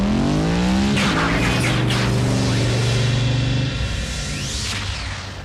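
An animated Transformers robot car, Bumblebee, revs its engine hard with roaring, rising tones and a squealing tire swoop, loud and close throughout with no voices.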